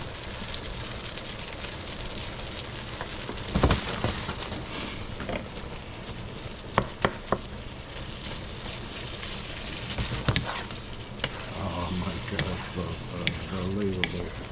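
Shrimp scampi sizzles in a pan of butter and wine, a steady crackling fry interrupted by stirring scrapes and a few sharp taps of a utensil, close and continuous.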